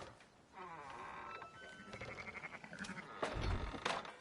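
Sheep in the Red Dead Redemption 2 video game give a few soft, wavering bleats, quiet and close, with a dull thunk near the end.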